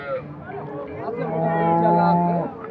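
An Indian Haryana bullock at a cattle market gives a single long, close low moo that rises and holds before fading, with faint background noise.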